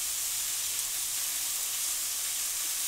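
Green onions frying in a skillet, a steady bright sizzle and hiss holding evenly throughout, close and continuous with no voices.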